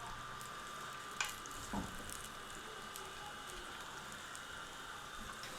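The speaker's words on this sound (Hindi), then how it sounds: "और इसको हम 4 से 5 मिनट के लिए सौते करेंगे प्याज को।" Onions sauté in a pan for Afghan Kabuli pulao, giving a faint, steady, rain-like crackle with a couple of brief knocks from a utensil.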